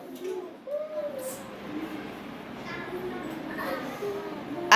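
Children in a school pre-primary class imitate a pigeon's cooing with their voices, giving soft, repeated low coos mixed with chatter from the group.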